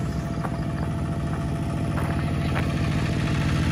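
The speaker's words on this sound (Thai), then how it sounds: "มาเบิ่งคนขับรถไถมาพุ่นน่ะพี่น้อง" A tractor engine runs on a rural road in Laos, a steady, close, chugging drone with a constant low throb and no talk.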